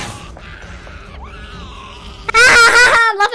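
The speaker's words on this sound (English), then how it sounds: "Oh my God, she's screaming." Agatha, a female villain in the horror game Dark Deception Chapter 2, lets out a loud, piercing scream near the end, rising sharply above quieter background game sounds and lasting under a second.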